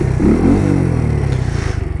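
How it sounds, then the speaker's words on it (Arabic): Italika Sky motorcycle engine cranking on the electric starter and catching, a loud close rumbling chug with a brief higher whirring burst early on. "هادي الديمارور باش كديماري الموتور"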